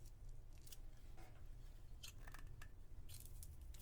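Small pliers snipping through a very hard cake topper piece, a few crisp faint clicks and snaps close by over steady low background hum.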